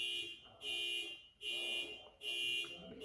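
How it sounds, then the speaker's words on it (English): An outdoor car alarm sounds from a distance, its tone switching on and off in a regular pulsing cycle with short gaps between bursts. "Like I hear construction and there's a car alarm."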